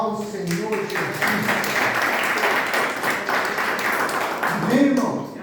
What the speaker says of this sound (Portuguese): E aplauda ao Senhor Jesus.